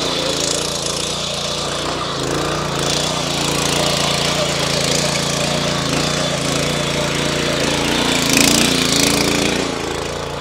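A mini tractor with a small engine drives an 18-inch rotavator through weedy, grassy soil, giving a loud, continuous chugging roar with rattling tines that holds steady throughout, close up.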